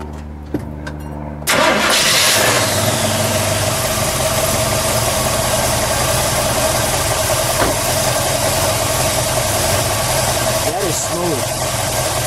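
A 1940 Ford Standard Custom with a V8 cranks over and fires after a brief quiet start, then settles into a steady, loud, smooth idle that runs throughout, with people talking quietly beneath the engine.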